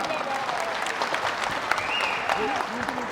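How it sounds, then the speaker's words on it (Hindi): Enthusiastic applause from a crowd at a political rally follows a speech, a dense, steady clapping that fills the space, with a voice briefly audible beneath it. "जोरदार तालियों के गवाह से स्वागत।"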